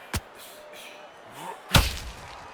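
Two sharp, heavy impacts land about a second and a half apart, the second louder, over a low crowd-like murmur.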